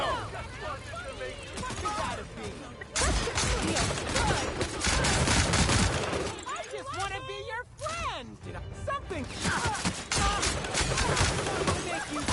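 Dense gunfire from The Outer Worlds Spacer's Choice Edition, a continuous fusillade of shots and impacts at full volume, layered with in-game character voices and shouting.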